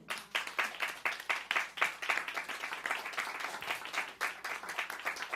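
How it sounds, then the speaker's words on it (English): Audience at a poetry reading breaking into applause, a room of hands clapping in irregular bursts that swell and stay dense for several seconds, moderately close. "let's have another round of applause for all of our readers"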